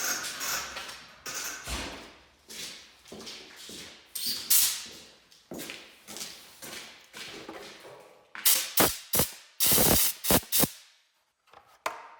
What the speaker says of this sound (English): Grab our compressor to give that a shot at here.